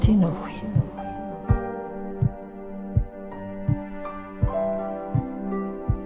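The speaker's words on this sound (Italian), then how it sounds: "Ed è il suono del nostro cuore." A heartbeat thumps in a slow, regular pulse of soft low beats, roughly one every three-quarters of a second, under a sustained hum and musical tones.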